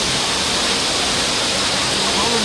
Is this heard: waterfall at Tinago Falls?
yes